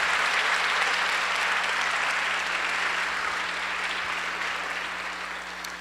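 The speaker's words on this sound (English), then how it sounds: "Let's give another round of applause to this great panel" A room full of people applauds a panel, a steady and dense wash of clapping that carries on throughout and slowly thins toward the end.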